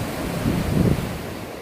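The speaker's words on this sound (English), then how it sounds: "A little windy out." Wind gusting across the microphone at a creek canyon park, a broad rushing roar that swells in the middle and eases off, with no voices.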